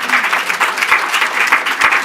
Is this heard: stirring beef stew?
no